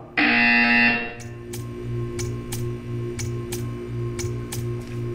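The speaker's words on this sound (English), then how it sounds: "When you hear the buzzer, stare at the art." A loud electronic buzzer blares for about a second in Portal 2, followed by a steady series of sharp ticking clicks over a low hum.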